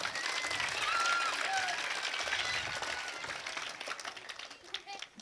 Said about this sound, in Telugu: ఏదో ఒక్కసారి చప్పట్లు అందరూ కొట్టండి